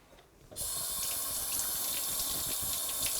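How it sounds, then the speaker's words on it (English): Cold water runs steadily from a kitchen tap to rinse dirt off sorrel leaves, a constant close splashing rush that starts abruptly and continues without talk. "I'm going to run cold water down here and try to rinse all this dirt off"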